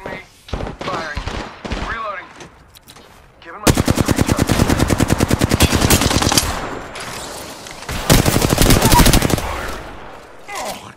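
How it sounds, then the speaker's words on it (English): Bursts of rapid automatic gunfire in a video game ring out close and loud, with a sustained machine-gun stream and a second burst later, mixed with scattered single shots and voices talking. "Shots fired."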